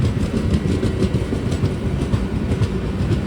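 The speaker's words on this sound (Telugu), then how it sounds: "క్రాసింగ్ చెప్తాను, ట్రైన్ అయితే వస్తుంది." A train rolls through a railway crossing at night, a steady loud rumble with rhythmic wheel clatter filling the whole stretch and no voices.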